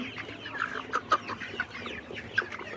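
Layer pullets, 67 days old, cluck and trill in a farm house, a few sharper nearby calls standing out from a busy flock murmur and low hum.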